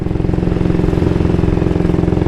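A 1938 AJS Model 22 250cc single-cylinder motorcycle running in fourth gear with revs dropped, steady low thumping engine note with a regular pulse, close and loud, no talking.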